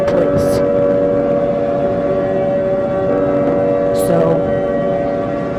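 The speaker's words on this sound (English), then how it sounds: "oh my god, I'm hearing the sirens." Civil defense sirens sound during a simulated nuclear attack emergency alert, a steady loud wail with tonal bands held throughout, while a voice speaks briefly over it.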